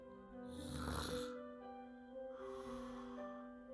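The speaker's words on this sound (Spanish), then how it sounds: "A veces todavía salía un pequeño ronquido." A small, soft snore from a dinosaur in a Spanish children's bedtime story, two slow breathy rasps a couple of seconds apart, quiet and close with no talking.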